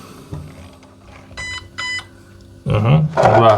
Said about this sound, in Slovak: Čakáš, že 6 krát bude pípať, ne?